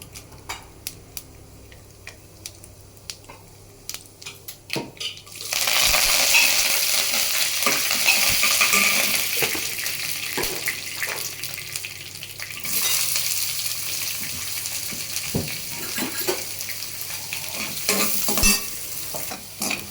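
Mustard seeds, cumin, chana dal, urad dal and a dried red chili sizzle loudly in hot oil, crackling steadily for several seconds with a spoon stirring and scraping the pan, and no one speaking.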